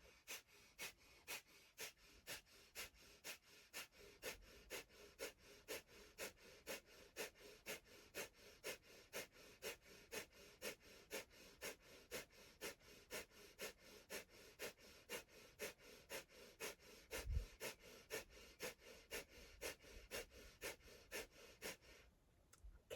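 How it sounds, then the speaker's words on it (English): Rapid, forceful rhythmic breathing during a kundalini kriya, steady pulsing breaths repeating about twice a second for over twenty seconds, fairly faint and close. "Powerful breathing. Keep going."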